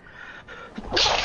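A single sharp human sneeze rings out up close, starting with a brief intake and ending in a loud, breathy burst, with no talk over it.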